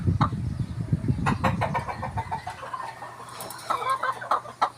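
Black Escolin chickens cluck in a backyard, a close run of short, choppy clucks that later thins into higher calls.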